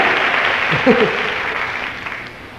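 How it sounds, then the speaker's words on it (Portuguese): A church congregation claps during a Sunday worship service, a broad burst of applause that fades over a couple of seconds, with a brief voice mixed in. "Então dê salve de palmas para o Senhor Jesus"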